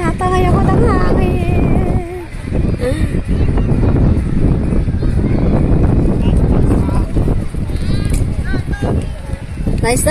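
Strong wind buffets the microphone at an outdoor basketball court during a Copa Biñan semifinal game, a loud continuous roar under shouting players throughout.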